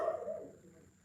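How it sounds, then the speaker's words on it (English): A dog barks once, somewhat distant, a short burst that fades out quickly, with no talking over it. "Of course, my dog will bark."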